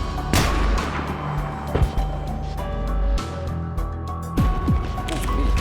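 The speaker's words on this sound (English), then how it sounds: "I blew him up with a grenade launcher!" Grenade launcher blasts in Battlefield 3 Reality Mod, a dense military game soundscape with several sharp explosive booms and crackling gunfire over a constant rumbling backdrop.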